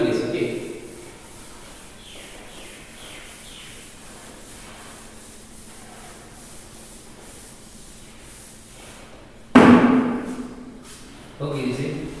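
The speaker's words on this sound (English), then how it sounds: "I am rubbing this." A cloth rubs out writing on a classroom board in a run of soft, rhythmic brushing strokes, with a louder scrape near the end.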